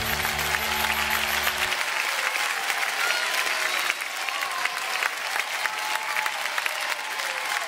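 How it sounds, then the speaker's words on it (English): Dense, sustained clapping from a family audience at a children's stage show, loud and even throughout, with a bright musical tone fading out in the first seconds. "give them a clap as we go."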